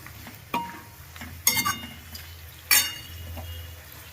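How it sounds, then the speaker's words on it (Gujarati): Desi tomatoes cook in a pan for a Kathiyawadi sev tameta curry with garlic and onion, heard as a few sharp clinks of a spoon against the pan over faint sizzling. "હવે આપણે ટમેટા નાખી દઈએ, દેશી ટમેટા. એને આપણે 2 મિનિટ પકાવવા દઈએ."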